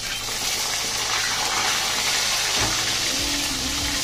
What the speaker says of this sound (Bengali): এই মাছটা ভাজা হচ্ছে